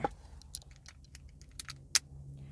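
A bunch of car keys for an Isuzu jingles faintly in scattered light metallic clinks, with one sharper clink near the end, over a quiet low hum.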